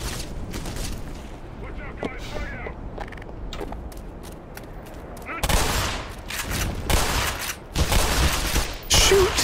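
Bursts of rapid gunfire from Black Mesa, loud crackling volleys that grow denser and heavier in the second half, with a voice talking over the shooting.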